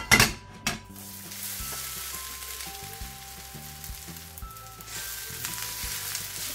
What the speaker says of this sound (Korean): 이제 식용유가 달궈졌으면 오뎅을 한번 볶아 볼게요